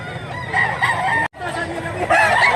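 A 4.5-month-old Sweeter bloodline rooster crows loudly nearby, its call filling the clip with a brief cut in the middle, while voices murmur in the background.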